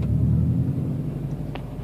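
A 2007 Subaru STI with a manual gearbox pulls away under added throttle, a steady low engine rumble close by that holds fairly even and slightly eases, with no talk.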